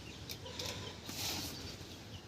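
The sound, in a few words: chickens clucking in a home garden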